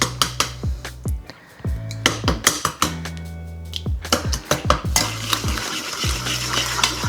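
Six eggs for lemon bars being broken up by hand in a bowl, with a quick series of sharp taps and clinks of a utensil against the bowl and soft wet sloshing in between, close and fairly loud.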